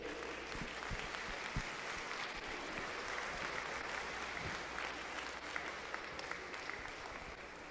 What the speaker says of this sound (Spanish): Fuerte aplauso a la doctora Olga Consuelo Vélez Caro.